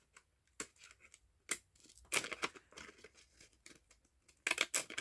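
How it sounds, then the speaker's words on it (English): Decorative edging scissors cut through paper while making a small craft journal, producing irregular crisp snips and crinkly rustles in uneven bursts separated by short pauses, close and fairly quiet. "And then I got out these little fancy edgers that I got from a friend, and I thought, let's go ahead and try to edge it."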